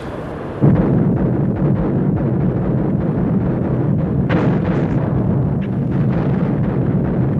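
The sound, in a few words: Russian artillery bombarding German positions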